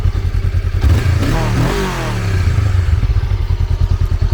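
A Honda Rebel CMX 500 motorcycle engine idles with a loud, rough, pulsing rumble, rising briefly in a revving sweep before settling back into a steady throb.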